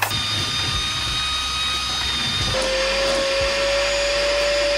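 A drill fitted with a long 6-inch bit bores through the deck of a Lowe 144 jon boat during a bass boat conversion. It gives a steady, loud whine that holds throughout, and partway through it shifts to a new, higher pitch.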